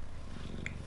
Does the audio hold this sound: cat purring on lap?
yes